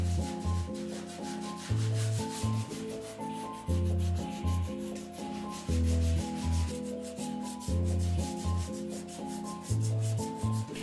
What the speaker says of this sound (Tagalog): So sa masilya yon, nililiha nila.